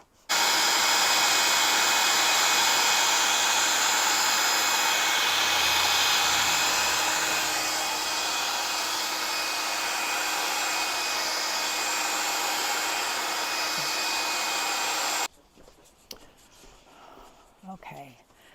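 A hair dryer blows over wet paint on an upcycled canvas, a loud, steady close whir running for about fifteen seconds before cutting off abruptly, leaving quiet room sound and small handling noises.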